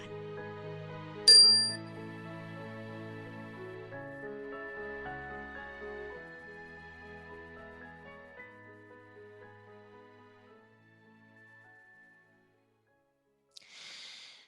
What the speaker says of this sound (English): We'll begin the meditation with the ring of the chime